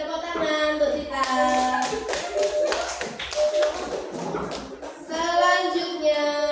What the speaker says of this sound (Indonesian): Tepuk tangan untuk Tita